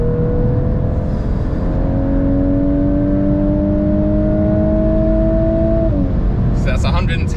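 A VW Golf R MK8 engine at high speed, a loud steady drone with rising pitch that drops sharply as the gearbox shifts down near the end, heard from inside the car.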